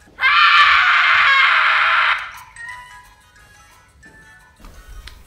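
A loud, sustained scream rings out for about two seconds, then fades into quieter, lingering tonal sounds with faint background noise.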